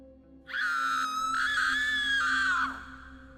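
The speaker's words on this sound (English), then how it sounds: "a blood-chilling scream echoed from upriver" A woman's blood-chilling scream echoes from upriver: one long, high, wavering cry lasting about two seconds before breaking off.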